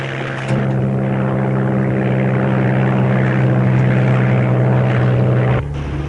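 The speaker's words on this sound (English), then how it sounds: "amerikanisches Flugzeug" A propeller airplane flies overhead, its engine a loud, steady, droning roar with a throbbing low hum that holds for several seconds before cutting off sharply near the end; no voices.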